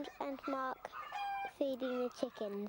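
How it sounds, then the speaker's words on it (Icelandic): Cartoon farm chickens cluck in a run of quick, bright, stepped calls with short pauses between them. The sound is close and clear, with no talk over it. The cartoon is an Icelandic-dubbed Teletubbies episode. "Þeir eiga fullt af hænum."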